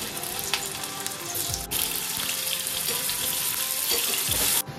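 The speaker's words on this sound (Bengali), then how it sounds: "নুন হলুদ দিয়ে ভেজে নেবো প্রথমে।" Cauliflower frying in a pan with salt and turmeric gives a loud, continuous close-up sizzle and crackle, with occasional scraping stirs and a sharp burst near the end; no talking.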